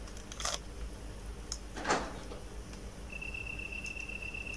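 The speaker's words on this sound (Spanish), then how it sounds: "¿Escucho grillos?" Crickets chirp faintly in a quiet background in the video game Resident Evil Director's Cut, with a couple of soft scraping noises and a thin steady tone near the end.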